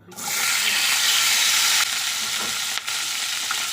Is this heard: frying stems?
yes